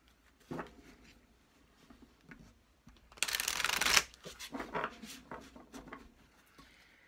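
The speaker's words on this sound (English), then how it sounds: "Trying to hard keep my grip on the cards because this is not the easiest deck for me to shuffle." A hard-to-grip deck of playing cards is shuffled, with a few soft card riffles early on and one loud, dense riffle of about a second in the middle, followed by lighter card handling and faint rustles nearby.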